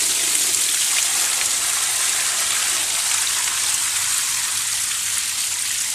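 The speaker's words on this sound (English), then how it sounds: "So first thing we're going to do is remove it from the water." Water gushes and drips steadily as a potted hardy water lily is lifted out of a water-filled tub, a continuous close, fairly loud splashing and trickling with no talk.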